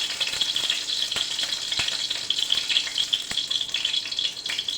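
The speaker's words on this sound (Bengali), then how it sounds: "কড়াইয়ের মধ্যে দিয়ে দিচ্ছি আমি সর্ষের তেল" Mustard oil crackling and frying in a hot wok, a steady close sizzle with scattered sharp pops and spatters, no voices.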